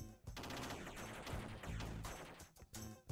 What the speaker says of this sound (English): It's quite a handy machine gun there.